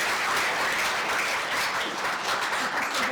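Summit delegates applaud themselves at the 2025 closing ceremony, a dense, steady roar of many hands clapping together, sustained and fairly loud with no voices over it.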